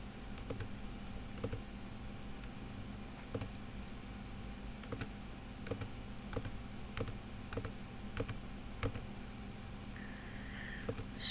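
Keys tapped on a computer keyboard to enter an email ID, a sparse, quiet series of individual clicks at an irregular pace over faint room hum, with no talking.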